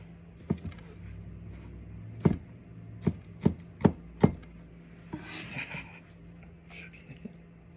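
A freshly sharpened knife chops long hot peppers on a board, giving six or seven crisp, separate thunks in a loose rhythm, close and fairly quiet, with light rustling between the cuts.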